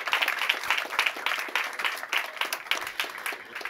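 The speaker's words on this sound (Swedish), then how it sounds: "Ge dem en varm applåd." Warm applause from a debate audience for panelists at a Swedish political event on digitalisation, scattered hand claps rising and falling in brief bursts, moderately close and fairly quiet.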